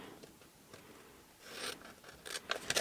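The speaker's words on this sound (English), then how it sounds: "And then just simply cut the other score lines." Scissors snip through a paper milk carton along its score lines, a few close, soft cutting strokes building toward the end.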